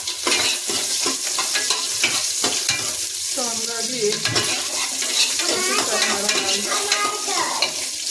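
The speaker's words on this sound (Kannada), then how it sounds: "ಒಗ್ಗರಣೆ ಹಾಕ್ತೀವಿ ನೋಡಿ ಈರುಳ್ಳಿ" Loud, steady sizzle of onions frying in hot oil for a tempering, with a spoon stirring and scraping the pan, while a voice talks briefly over it.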